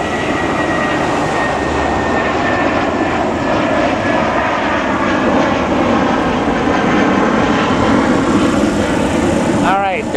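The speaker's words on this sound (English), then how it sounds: "Here, we got an airplane." A fixed-wing airplane passes overhead near a Los Angeles construction site, its steady broadband engine roar filling the whole stretch at close, loud level, with a brief bike or vehicle pass near the end.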